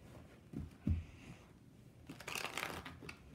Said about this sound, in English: I'm just going to shuffle them to just get them all mixed up.